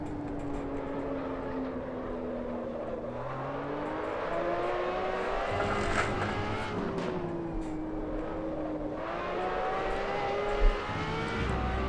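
Ferrari LaFerrari with 963 brake horsepower accelerating around Spa-Francorchamps in Assetto Corsa, a loud continuous engine whine climbing in pitch through several gear shifts, with no voices.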